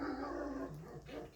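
A young German Shepherd, about a year old, whimpers and gives a low growl up close, a short strained whine sliding into a throaty rumble.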